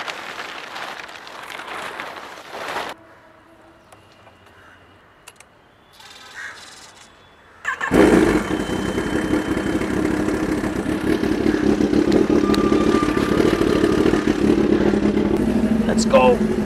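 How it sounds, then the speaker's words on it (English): A Kawasaki ZX10R superbike is started and left running. After a quiet stretch with some low clatter, the engine fires and holds a loud, steady idle nearby. A person talks before it starts. "Let's fire up the bike."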